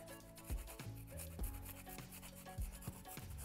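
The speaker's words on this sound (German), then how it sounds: "Den Ingwer einfach fein reiben und auch mit in die Marinade geben." Ginger being grated finely for a marinade, rasping strokes repeating roughly every half second over steady background music, with no talking.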